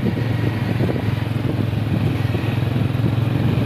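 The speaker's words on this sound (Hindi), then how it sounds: "ये चाचू जान जो बाइक चला रहे हैं" A motorcycle is ridden along the road, its engine giving a steady close-up putter with rapid pulsing throb and wind rush throughout, no voices.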